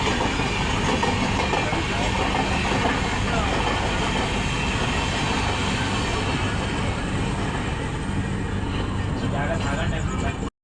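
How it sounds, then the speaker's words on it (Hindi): The Howrah–Hatia Kriyayoga Express passes Awada railway station at close range: a loud, continuous rumble with rolling wheel clatter that holds steady for about ten seconds, then cuts off abruptly. "Howrah Hatia क्रियाजोगा express crossing आवादा railway station"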